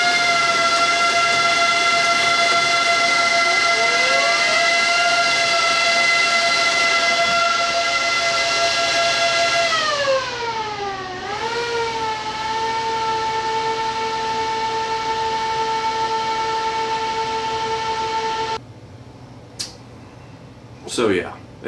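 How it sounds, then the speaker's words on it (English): Hot-swappable 80 mm fans in a dual Xeon server give a loud, steady multi-tone whine that dips in pitch and climbs back, then cuts off near the end with a few knocks. "It's these hot swappable, like 80 millimeter fans."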